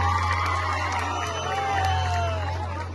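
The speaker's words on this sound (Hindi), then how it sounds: "एक बार जोरदार ताली बजाइए।" Crowd at an outdoor night stage show cheers and whoops continuously over a steady low hum from the sound system, with scattered shouts rising through the noise.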